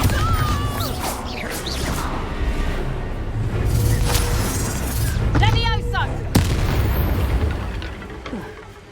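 A Bombarda blasting spell in the Hogwarts Legacy game goes off as a heavy booming explosion, surrounded by whooshing magical effects and crashing debris, loud and close, with a voice calling out in the mix.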